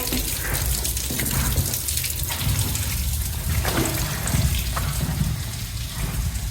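Water gushing and splashing steadily into a storm drain, a continuous close flow pouring down with gurgling bursts.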